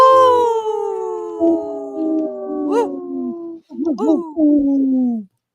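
A person imitates a wolf howl with long, drawn-out voiced calls that slide downward, repeated a few times close to the microphone, loud and clear with brief breaks between howls.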